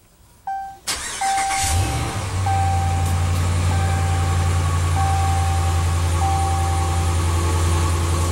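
A 2013 Ram 1500 pickup with a 5.7 L Hemi V8 starts by push button. Chimes sound, then the starter cranks briefly and the engine catches into a loud, steady, deep idle that continues while repeated chime tones ring.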